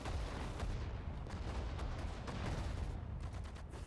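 Artillery and gunfire in the war game Sudden Strike 4 rumble continuously, with distant booms and scattered rapid shots layered in a dense battlefield wash, no voices.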